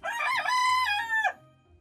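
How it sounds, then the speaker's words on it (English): A rooster gives one loud, close cock-a-doodle-doo crow lasting over a second, with no voices over it. "That's right, a rooster."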